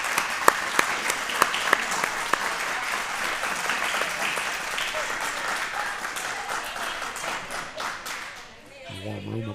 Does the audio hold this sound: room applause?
yes